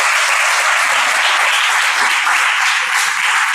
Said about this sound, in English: let us all clap for her for at least speaking out